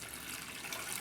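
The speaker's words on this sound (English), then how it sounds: "So we'll put the water in" Water poured from a container into a bowl of flour while mixing a high-hydration Neapolitan pizza dough, a steady, continuous pouring hiss with no talk, close and fairly quiet throughout.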